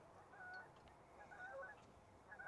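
Lesser geese honk in the distance over a river, a few faint scattered calls rising over a steady outdoor background, with no voices.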